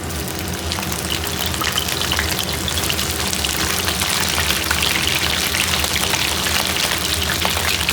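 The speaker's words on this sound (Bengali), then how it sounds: "এবারে প্রথমেই আমি ব্রোকলিগুলোকে ভেজে নেব" Broccoli florets frying in hot white oil, a dense, steady crackling sizzle that holds loud and continuous throughout, close up, with no voices.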